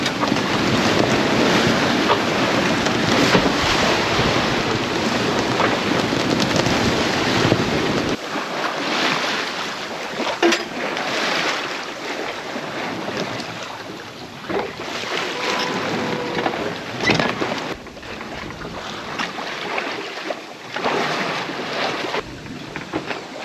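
Strong wind buffets a 29ft sailboat at sea, with rushing gusts, microphone wind noise and waves sloshing against the hull, rising and easing in uneven surges.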